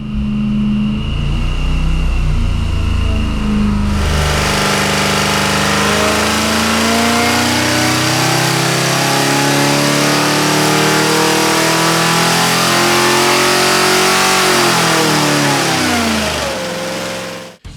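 A Ford Cleveland 408 V8 on a dyno idles loudly, then roars under full throttle, its pitch climbing steadily toward 5,500 RPM before abruptly cutting off at the end.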